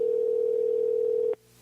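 A steady electronic ring tone on a phone call to a show guest holds loud and unbroken, then cuts off abruptly near the end and leaves a faint low hum.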